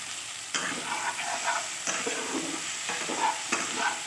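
Chilli powder stirred into a sizzling egg curry masala in a pan, a continuous close frying hiss broken by a few scraping stirs, with no voices.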